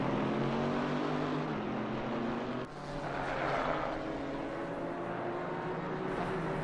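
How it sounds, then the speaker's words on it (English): Aston Martin GT4 race car in a PC racing game at Misano gives a faint, continuous engine drone with a steady tone that dips briefly partway through. "This car, the Aston Martin GT4, sounds just like its big sister"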